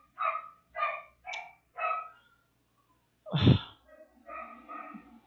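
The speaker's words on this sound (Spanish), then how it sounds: "Perritos allá afuera" Dogs bark outside in a short burst of four yaps, a pause, then a louder bark followed by a few more, moderately distant with no talking.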